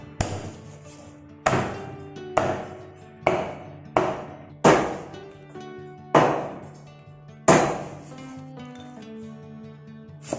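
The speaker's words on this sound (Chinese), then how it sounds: "切腊肉把它切成块" A heavy cleaver chops Chinese cured sausage into pieces on a board, about nine sharp, separate thwacks spaced unevenly across the clip, each ringing briefly, with no voices.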